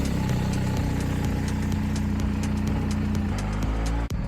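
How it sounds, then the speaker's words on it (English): A BMW R1250 GSA motorcycle engine idles close by with a steady, even, low rumble. It dips briefly just before the end. "We'll start the bike first."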